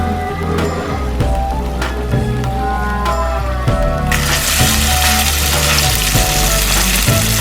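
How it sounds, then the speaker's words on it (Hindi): A karahi dish fries in a wok with a loud, close, continuous sizzle and crackle, with occasional spoon clinks, and the hiss grows stronger and fuller partway through. "ये मेरी मज़े की कढ़ाई अभी ये बन रही है और खुशबुएं बहुत मज़े की आ रही हैं।"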